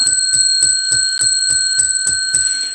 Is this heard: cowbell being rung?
yes